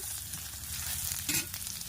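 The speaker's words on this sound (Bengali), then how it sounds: "তেলের মধ্যে দিয়ে দেবো পেঁয়াজ কুচি একটু দিয়ে দেবো পাঁচ ফোড়ন পেঁয়াজটাকে ভালোভাবে নাড়াচাড়া করে নিয়ে লাল লাল করে নেব" Chopped onion and five-spice crackle and sizzle in hot oil while being stirred, a steady close frying hiss with a brief scraping stir partway through.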